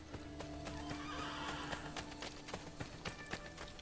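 A horse in Assassin's Creed Brotherhood gallops with quick, steady clip-clop hoofbeats close by, and a whinny rises over the running rhythm throughout.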